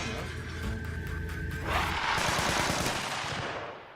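An MP5 submachine gun fires in the zombie survival game SCUM, a rapid burst of close, crackling shots that rattles on for about two seconds and then fades.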